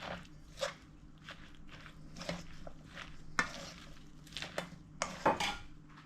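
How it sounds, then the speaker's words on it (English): A spatula stirs and presses leftover vegetables together for a pancake, scattered soft scrapes and sharp clinks against a pan or bowl over a quiet low hum, with no speech. "With the spatula, it's kind of bind them together."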